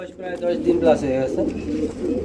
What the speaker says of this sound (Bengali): এখানেও দেখতে পাচ্ছি আরেক জোড়া কবুতর